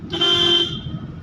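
A single short car horn toot sounds close by against low engine rumble.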